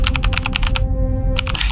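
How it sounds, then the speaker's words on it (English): Computer keyboard keys click in a quick, close run of taps, pause for about half a second, then resume briefly, loud and dry over a steady low hum. "The clicking of keys is deafeningly loud in the dead room."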